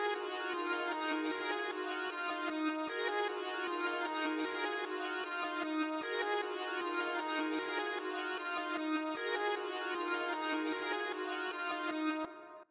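A synth melody run through a Gross Beat sidechain gate and Fruity Convolver reverb repeats in a steady, pulsing loop, loud and alone, its chopped notes ringing with a roomy tail before it cuts off.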